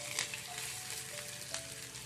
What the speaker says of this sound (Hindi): हमारा ऑयल गर्म हो गया है। अब हम इसमें अपना जीरा डालेंगे।